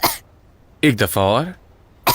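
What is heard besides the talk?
person coughing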